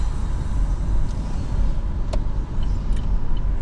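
Steady road rumble and engine drone from a car driving along Main Street, Route 112, in Port Jefferson, Long Island, on a quiet Monday morning, heard from inside the vehicle.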